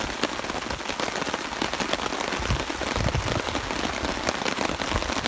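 Steady rain falling outdoors on a rainy day, a dense, even patter of drops on surfaces with scattered louder splashes close by, continuous throughout and no voices.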